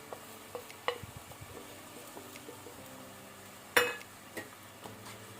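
Green masala paste and turmeric frying over medium flame in a pan with tomato, a soft low sizzle broken by a few stirring scrapes and one sharp metallic clink of a utensil against the pan.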